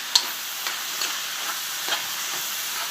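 Beef being stirred in a pan with garlic and its juices, a soft steady sizzle with faint scraping strokes every half second or so, close and quiet, with no talking.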